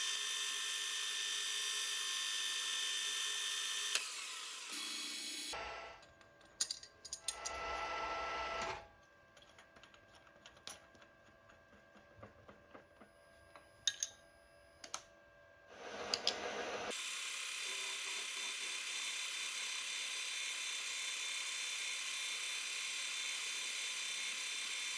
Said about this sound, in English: Just going to drill it.